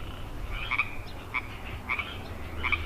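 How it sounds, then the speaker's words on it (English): Frogs croak in short repeated calls, four or so evenly spaced chirping croaks at moderate loudness over a low steady background hum, with no voices. "Here goes the frogs."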